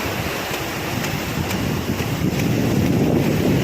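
Steady broadband roar of surf with waves washing in, wind buffeting the microphone throughout; no voices.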